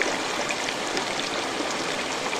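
A steady stream of flowing water rushes and babbles continuously, a dense, even wash of sound close by with no voices.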